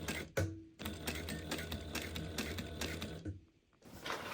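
A sewing machine stitches fabric pieces together, a quiet, rapid, steady mechanical chatter running for about three seconds between short pauses, with no talking.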